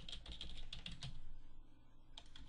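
Keys clatter on a computer keyboard as a folder name is typed, a quick close burst of keystrokes, then a brief pause and a few more taps.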